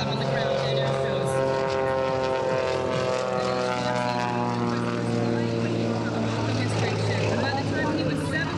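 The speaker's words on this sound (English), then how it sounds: "This airplane will actually be tumbling out of control." An aerobatic propeller airplane performs at an air show at Naval Air Station Key West. Its engine gives a loud, continuous droning roar with a strong harmonic buzz that holds steady throughout.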